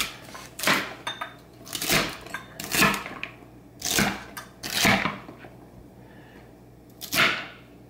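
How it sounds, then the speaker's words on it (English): Knife chopping celery and other vegetables into large chunks for hotpot, about seven sharp, separate strokes on a board at uneven intervals, close and fairly loud with no talk. "James is gonna cut up some vegetables in very large pieces"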